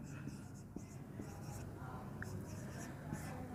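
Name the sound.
writing with a pen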